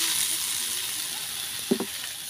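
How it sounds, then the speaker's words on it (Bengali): Pointed gourd peels frying in oil in a village kitchen, a steady hissing sizzle with a couple of brief knocks near the end. "পটলের ছোলা ভালো করে ভাজলে"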